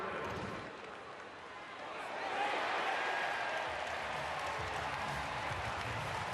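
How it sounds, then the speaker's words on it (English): A baseball crowd at a Minnesota Twins at Los Angeles Angels game reacts to a close play at second base, with steady distant stadium noise swelling into a louder, sustained roar after a couple of seconds. "Crowd reacted to what appeared to be a safe runner at second base, with Teodosio trying to advance on that thr"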